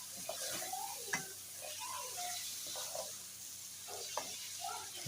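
A spoon stirring chicken with chana dal as it fries in a pan, soft scraping and shuffling strokes over a steady, faint sizzle, close but quiet.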